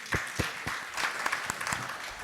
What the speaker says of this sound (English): they certainly need a loud applause